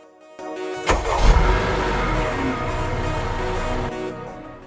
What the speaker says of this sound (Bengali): গাড়িতে আমরা সবার আগে গাড়িটা স্টার্ট দিয়ে দেখাবো